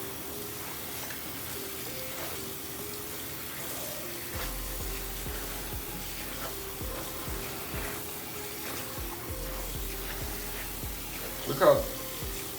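Running tap water splashes steadily in a sink while hair brushes and durags are scrubbed clean, a continuous wet hiss with small sloshes and a brief louder splash near the end.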